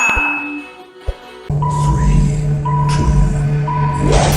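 A short musical jingle with bright chime-like tones over a steady hum, following a brief pause and a soft click.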